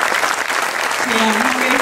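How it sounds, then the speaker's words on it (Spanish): Audience applause at a flamenco singing festival, a loud, dense wash of clapping, with a voice briefly rising over it near the end. "Quisiera pedir un aplauso para ella"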